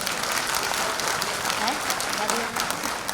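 Scattered applause from a teachers' day audience in Bhopal, fairly thin and steady for a few seconds, with some voices mixed in underneath.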